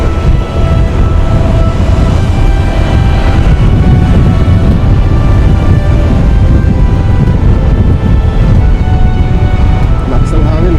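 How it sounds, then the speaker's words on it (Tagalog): Strong typhoon wind buffets the microphone while riding a Honda ADV350 scooter, a steady loud roar of low rumble and gusts lasting throughout. "Lakas ng hangin kasi may bagyo."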